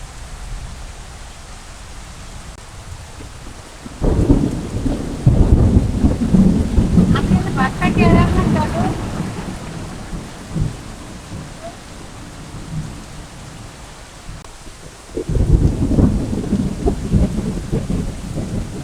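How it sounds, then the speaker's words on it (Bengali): Thunder rolling with rain falling in a village during a storm: two loud, deep rumbles rise out of a steady rain hiss, one long and swelling midway and another starting near the end. "মেঘেও গর্জন করতে আছে, প্রচুর গর্জন করে আকাশে"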